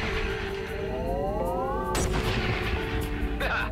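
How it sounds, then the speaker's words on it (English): A sniper shot in the space video game Everspace 2, a sharp blast that lands about halfway through over a steady engine hum and rising electronic tones, followed by a second weapon burst near the end. "let me assist you with my sniper."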